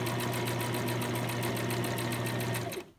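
A sewing machine stitches a DIY dog coat, its needle hammering in a fast, steady, even rhythm close up for nearly three seconds before stopping abruptly.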